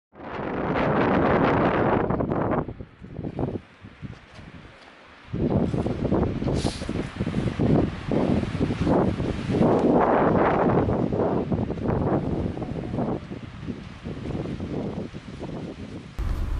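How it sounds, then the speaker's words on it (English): Strong gusts of wind blow on a snowy mountain hike near Dream Lake, loud buffeting roars hitting the microphone in surges with a brief lull partway through. "The wind picked up, forcing us to turn around and head back where we came from"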